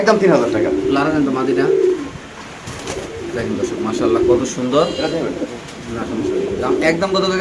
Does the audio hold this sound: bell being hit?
no